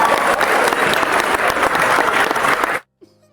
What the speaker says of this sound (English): So we deserve some clapping